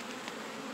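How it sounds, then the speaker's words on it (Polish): Honeybees swarm around an open hive during a spring swarm-prevention inspection, foragers returning from a field of flowering rapeseed; a dense, steady buzzing hum fills the short moment without any voices. "Teraz robi się coraz więcej pszczół, no bo wracają z pola pszczoły."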